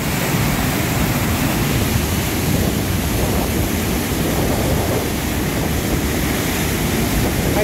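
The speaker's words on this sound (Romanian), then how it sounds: "Da, debitul e foarte mare de apă." Strong water flow rushing through a mill stream in the village of Sârbi, Maramureș, a steady loud broadband roar of churning water that holds constant throughout with no voices.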